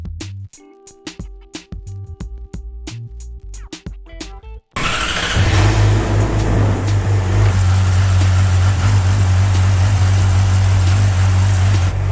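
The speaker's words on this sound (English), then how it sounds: "We're gonna start it up for a little bit and make sure that there's no leaks." A Yamaha R6 sport bike fresh from an oil and filter change starts after some clicking and cranking, then settles into a loud, steady, close idle with a rough mechanical rumble.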